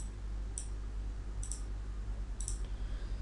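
Computer mouse clicks during a CATIA V5 sheet metal tutorial: three sharp, close double clicks spaced about a second apart over a steady low hum.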